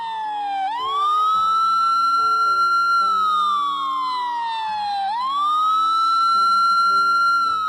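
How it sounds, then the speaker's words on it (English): A paramedic ambulance siren wails loud and clear in two long rising-and-falling sweeps, with no voices. "I'll send a paramedic ambulance right away."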